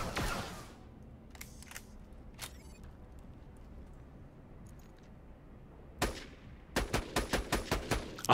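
Rapid bursts of automatic sniper rifle fire in Borderlands: The Pre-Sequel: a few scattered loud shots early on, then a fast, evenly spaced string of about eight sharp cracks near the end, with game ambience between.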